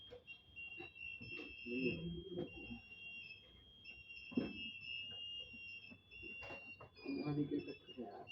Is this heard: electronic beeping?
yes